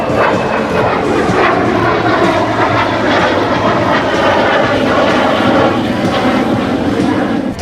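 Loud, continuous roar of a military jet aircraft engine at an air show, close and steady throughout with no pauses.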